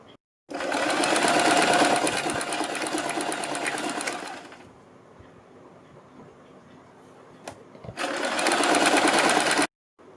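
Sewing machine stitching the folded hem of a short kurti, running in two bursts of rapid, close, even whirring separated by a quieter pause with faint handling sounds.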